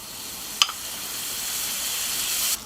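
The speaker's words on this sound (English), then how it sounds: "So we're going to melt some butter." Butter melting in a pan for frying mushrooms, a soft steady sizzle and hiss running throughout with a brief sharp crackle near the start, close and moderately loud.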